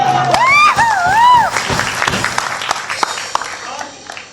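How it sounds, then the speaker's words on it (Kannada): Applause for Milana from an audience at a stage comedy skit: steady crowd clapping fills the clip, opening with a few whooping, swooping cheers or whistles over the first second and a half. "ಮಿಲನಗೆ ಚಪ್ಪಾಳೆ."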